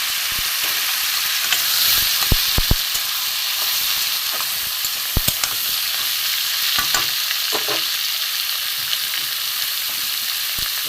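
Chopped bottle gourd stir-frying in a pan with bay leaf and five-spice tempering, a steady loud sizzle broken by scattered scraping clatters of a spatula, with no talking.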